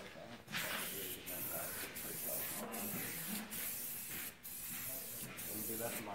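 A heavy second coat of spray paint going onto a car's wheel rims, heard as a close, steady aerosol hiss in long bursts separated by brief pauses.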